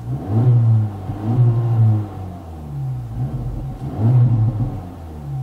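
An Acura Integra Type S engine revs up and down several times, a deep throaty rumble rising and falling in close, loud bursts.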